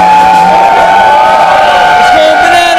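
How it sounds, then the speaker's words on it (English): A crowd at a live radio anniversary party in a New York bar roars and cheers continuously, loud and close, with voices shouting over a steady tonal hum. "Crowd is going wild."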